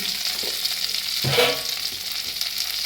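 Spice paste frying in oil in a pan for jackfruit kofta curry, a steady close sizzle with soft stirring scrapes and a brief louder swell midway; no voices.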